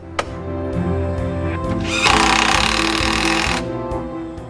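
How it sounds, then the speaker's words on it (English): Nailing porch joists to a beam during a front porch rebuild: a sharp tap, then a sustained harsh mechanical rattle from a tool that runs loud for about a second and a half before it stops. "Apart from nailing the joists to the beam, I also use hurricane tie to tie them together."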